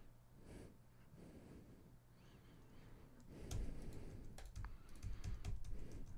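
Computer keyboard keys clicking while someone solves a New York Times crossword, faint and close, with scattered quick taps growing busier toward the end amid soft breathing.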